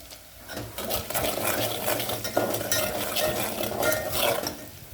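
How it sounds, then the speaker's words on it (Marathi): Onions sautéing in a pan with salt and turmeric, a spoon scraping and stirring in steady irregular strokes over a soft sizzle, close and clear. "हा बघा कांदा आता परतालाय"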